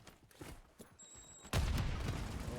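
Gunfire crackles in the video game Warzone during a trios match: scattered faint shots, then a sudden loud burst of rapid fire near the end, with no voices over it.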